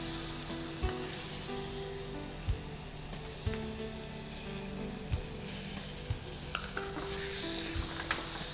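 Chicken frying with masala in a pan for a garlic chicken biryani dish, a steady close sizzle punctuated by regular knocks of a spoon against the pan as it is stirred.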